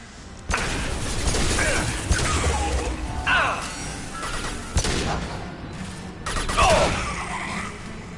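Sci-fi shooter combat in Mass Effect 2: bursts of weapon fire and impacts crack out in clusters, loud and close, with brief pauses between volleys and some voice effects mixed in.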